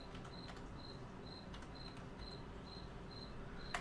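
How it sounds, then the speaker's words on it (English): Crickets chirp steadily in a basement, a regular series of short, evenly spaced high trills over a constant low background hum, with one sharp click near the end. "Yeah, those crickets. They just love this basement."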